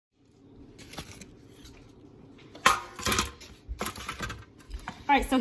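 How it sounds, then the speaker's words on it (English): A knife cuts open an Unbun keto and paleo bread bun, giving soft scraping and sawing strokes with irregular clicks and taps that grow louder toward the end, close by, with no talk. "And I'm gonna cut it open, let you guys see the inside of it."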